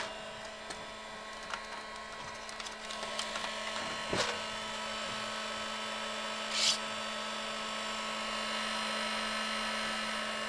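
A heat gun runs on an iPad 4 with cracked glass and an expanding battery, giving a steady blowing hum throughout. Faint clicks and handling noises sit on top.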